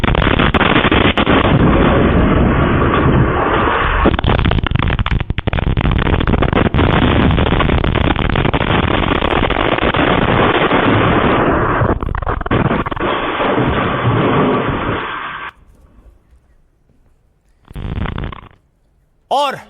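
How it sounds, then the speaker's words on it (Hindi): Heavy, continuous roaring blasts of airstrike explosions, loud and sustained for about fifteen seconds, then a brief pause before another short boom. "और ये सुनिए धमाके।"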